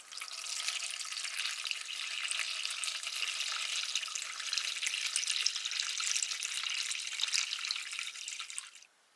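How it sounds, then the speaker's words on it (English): Vinegar pours steadily into a container to submerge a pair of Channellock 420 tongue-and-groove pliers, a continuous close splashing hiss that holds evenly for about nine seconds and then cuts off. "I'm going to add enough vinegar to fully submerge the pliers."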